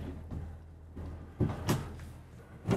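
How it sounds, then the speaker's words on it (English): Dresser drawers in a 2024 Renegade Valencia 38RB RV sliding open and shut, a series of soft thuds and bumps spaced across a few seconds, close and fairly quiet. "And four more big, nice dresser drawers."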